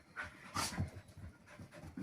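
A fearless dog pants rapidly in short rhythmic breaths, close and fairly loud, with a faint whimper mixed in and no talking.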